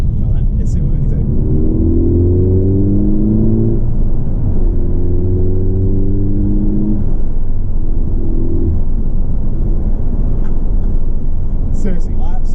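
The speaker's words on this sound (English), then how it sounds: "I absolutely love the sound of the turbo kicking off" A turbocharged car pulls hard in third gear with the turbo spooling, its engine drone rising in pitch through several long, steady, loud surges heard from inside the cabin.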